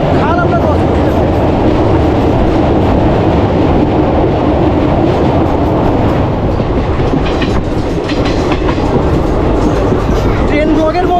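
A passenger train on the Katwa–Ahmedpur line rumbles steadily over a bridge across a small rural canal, loud and close, with continuous rolling wheel clatter throughout.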